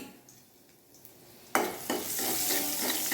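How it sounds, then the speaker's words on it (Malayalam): Salted onions frying in a pan: a loud sizzle bursts in partway through and holds, with scraping strokes of a ladle stirring them, close up and with no talk. "എല്ലാം കൂടെ ഒന്ന് ഇളക്കുക. ഇളക്കി മൂപ്പിക്കണം."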